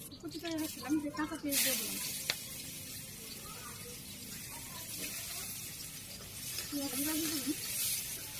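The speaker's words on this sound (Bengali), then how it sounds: "এটা আবারও তেল দিতেছি পুরনো দিতেছি জিরে আর এই যে শুকনো লঙ্কা" Cumin seeds and dried chilies fry in oil in a village kitchen, giving a steady crackling sizzle with louder spitting bursts, while someone talks over the hiss at times.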